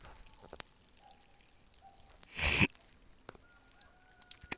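A brief burst of unfiltered water pouring into a bottle, lasting about a third of a second, stands out against a quiet outdoor background with faint birdsong.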